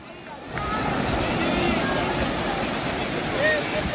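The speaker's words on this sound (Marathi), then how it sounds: "मस्त असं फेसळणाऱ्या लाट येतात बघा ह्या किनाऱ्यावर" Foaming sea waves break on Tarkarli beach in a continuous, close roar of surf mixed with wind rumble, with faint voices in the background.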